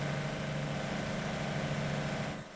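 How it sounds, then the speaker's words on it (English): A loud truck engine runs steadily in a farming simulator game, a constant low drone that drops off near the end. "And I think this truck is very loud."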